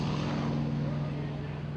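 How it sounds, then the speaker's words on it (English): A Lockheed Constellation C-121A four-engine propeller airliner takes off at EAA AirVenture 2023, its engines making a loud, steady, close droning roar with a strong low hum throughout. "the Lockheed Constellation C-121A taking off. Let's listen to the engine"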